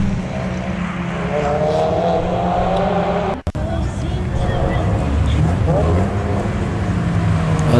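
A Lotus Elise drives a slalom course, its engine droning steadily at close range with shifting revs as it climbs and changes gear. A brief dropout comes midway, and someone talks over the engine.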